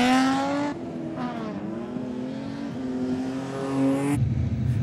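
Racing cars, including a Mercedes-Benz, accelerating around a 4.24-kilometre circuit, loud continuous engine drone with rising and shifting revs as cars pass, close and without talk.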